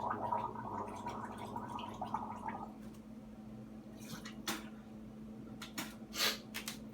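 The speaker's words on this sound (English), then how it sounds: "I'm not that good at gargling." Someone gargling a peppery sore throat rinse, a faint bubbling gurgle for a few seconds, followed by quiet clicks and small drips.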